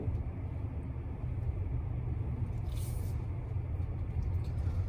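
A 2019 Mazda3 moves off and drives, its engine and road rumble a steady low drone heard from inside the cabin with no talking.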